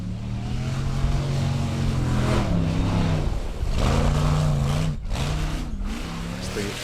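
Formula Offroad race car engine revving hard as it climbs through mud at an Icelandic competition in Hella, loud sustained roar with rising and falling pitch and brief throttle cuts, a commentator talking over it.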